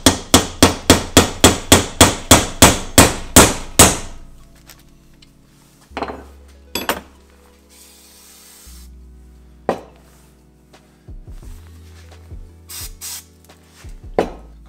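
A hammer strikes a drilled-out spark plug in a rapid run of about a dozen sharp metallic blows, followed by scattered single knocks and handling clatter during a home engine repair.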